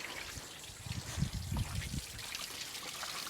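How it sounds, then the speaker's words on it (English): Water trickles and gurgles as the cooling system of a Holden HT ute refills, a soft close pour that swells briefly in the middle and settles into a faint steady dribble. "Let it fill up with water again."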